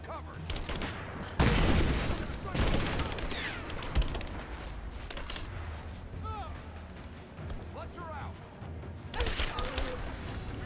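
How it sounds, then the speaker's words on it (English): Gunfire rattles in Rise of the Tomb Raider at a Soviet installation, with dense overlapping shots and a loud burst near the start. It carries on under shouted voices and scattered sounds of combat. "Give me suppressing fire!"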